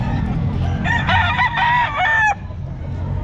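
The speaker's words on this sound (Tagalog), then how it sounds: "Ayan, Boy Tapang, Ayan, mga manok niya" Chickens at a pet market give a loud nearby crow over a background of clucking and low crowd murmur.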